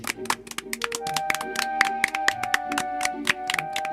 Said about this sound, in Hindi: सभी बच्चे सोनू के लिए एक बार जोर से ताली बजाएंगे